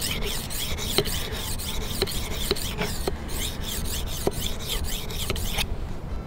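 Kitchen knife drawn repeatedly across a sharpening stone from a sharpening set, steady rasping strokes in an even back-and-forth rhythm, close and clear, with no talk.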